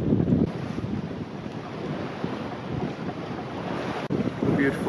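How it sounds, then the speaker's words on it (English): Strong southwest wind buffets a sailboat at sea in the Thames Estuary, a continuous rough roar of gusts and water rushing past the hull, loud and steady, with a brief dropout near the end. "Still blowing hard from the southwest."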